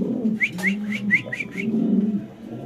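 Fancy pigeons coo in a low, rolling murmur, with a run of six short bright chirps or whistles repeating quickly above them.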